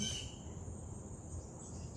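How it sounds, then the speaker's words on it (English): Natural outdoor background with crickets chirring steadily and faint birds, a soft continuous insect drone with no voices. "I have some birds that are interrupting me, and yes, I have some crickets and some natural noise in the background"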